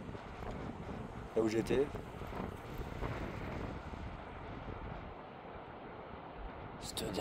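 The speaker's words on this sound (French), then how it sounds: "on en parle des rafales qu'il vient d'y avoir là-bas" Strong gusts of Storm Herminia roar across the microphone in a steady, heavy rush near the sea, with a brief voice speaking over the wind.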